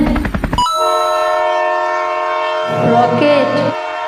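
A train gives a brief rumbling clatter, then a long, loud, sustained horn blast that swells near the end, with no talk over it.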